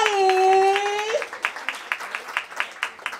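An audience at an opening ceremony for a care station breaks into scattered applause that quickly settles into a light, steady rhythm of claps after a sustained tone fades out.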